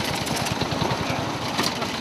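Small race car with a 200 engine rolls out at the start of the Skagen race in 2007, giving a steady, throbbing mid-pitched engine drone with a quick pulsing rhythm, fairly close and continuous throughout.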